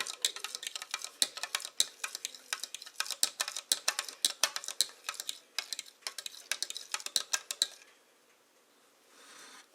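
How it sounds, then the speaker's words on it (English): A spoon stirs a milk mixture in a bowl, tapping and clinking against the sides in quick, irregular ticks. The sound is close and crisp, then stops, leaving a faint background. "Now I'm going to stir it up."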